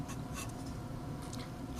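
Pen or marker writing by hand on a surface during a multivariable calculus lecture, a steady close scratching with soft strokes and no talk.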